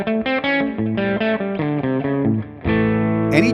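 Electric guitar through a ToneX pedal into a ToneX Cab, playing a melodic line of sustained notes that ends in a fuller ringing chord and a short scrape, steady and close, without speech.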